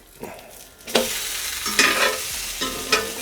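A quesadilla sizzles in a pan as it is flipped, with several close scraping and clattering strokes over a steady hiss and no voices.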